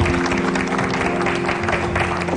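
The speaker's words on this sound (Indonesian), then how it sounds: "Ya, tepuk tangan untuk Fitri." A television studio audience claps steadily in sustained applause, dense and continuous throughout.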